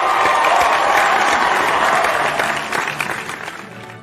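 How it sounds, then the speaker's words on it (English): Wedding guests applaud the bride and groom coming forward at a church ceremony, a loud, dense wash of clapping that tapers off toward the end. "Can we give the couple a round of applause as they come forward for their exchange of vows?"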